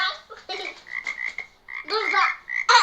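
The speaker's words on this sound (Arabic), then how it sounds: "ضفدع." A frog croaks in a run of close, loud, raspy calls with short gaps between them, heard on its own.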